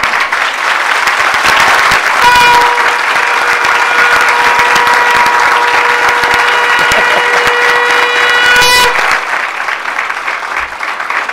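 Loud, dense audience clapping at a spiritual gathering, continuous and steady, with a sustained electronic tone sounding in the middle of the applause before the clapping tapers slightly at the end.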